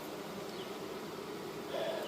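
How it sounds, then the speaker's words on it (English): Honey bees buzz steadily inside a hive box, a continuous close drone that swells slightly louder near the end. "there's a decent amount of bees in there right now"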